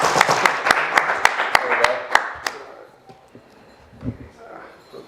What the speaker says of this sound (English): do the clapping again real quick